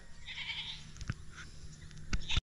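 Goats bleating outdoors on a dry farm plot in Burias, with a few short bleats in the second half over a steady rural background, fairly close and moderately loud, no talking.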